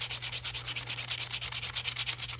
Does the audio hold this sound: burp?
no